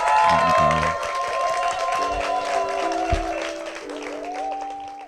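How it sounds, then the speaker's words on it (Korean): A church congregation breaks into applause, with clapping rising over a sustained chord of instrumental music that carries on underneath. "축복의 박수 부탁드리겠습니다"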